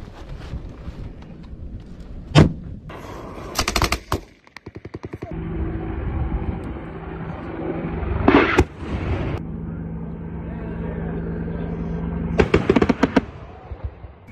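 Live-fire infantry platoon exercise with a frag grenade explosion and gunfire: sharp loud blasts and rapid bursts of automatic fire crack out in clusters, separated by steady rumbling and echoing background noise outdoors.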